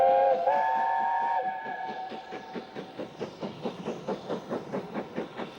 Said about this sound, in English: Camelot heads a Bluebell railway train made up of the southern green stock which was once so typical of the area.